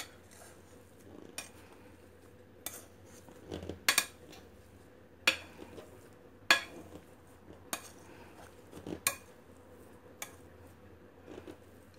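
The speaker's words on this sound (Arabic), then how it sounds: "ومن ليست له هذه الآلات للهرش يمكن استعمال الشوكة" A fork mashes eggplant filling in a bowl for stuffed eggplant rolls, giving close, irregular metallic clinks and scrapes against the dish with short quiet gaps between strokes.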